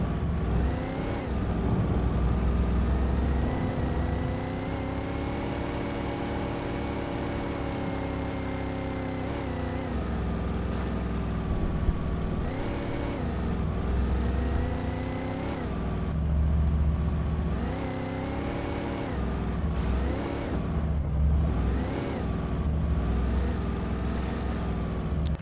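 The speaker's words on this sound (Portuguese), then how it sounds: "Esse carro aqui é melhor, né?" Car engine droning in Alan Wake Remastered, rising and falling in pitch as the vehicle accelerates and shifts, steady and fairly close throughout the drive with no talk.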